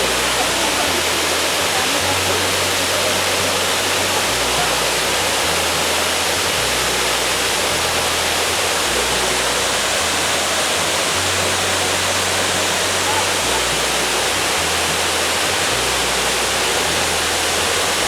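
A waterfall roars as a steady, loud, broadband rush of falling water, with a rhythmic low rumble underneath and no voices breaking through.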